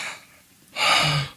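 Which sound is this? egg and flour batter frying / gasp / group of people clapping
gasp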